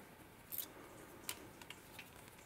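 Craft wire being trimmed on a wire-wrapped bead fairy ring, giving two short, faint clicks of the cutters about a second apart in a quiet room.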